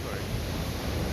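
Ocean waves surging and smashing inside a sea cave at a hidden Sydney beach, a steady loud broadband roar of surf filling the whole moment without a break.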